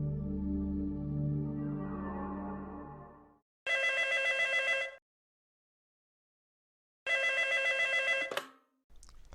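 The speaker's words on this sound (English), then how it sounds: "there was a phone call made, which you will hear now" Telephone ringing in the horror game A Week with Oscar: two loud, bright electronic rings separated by a pause of silence, following a low muffled rumble at the start.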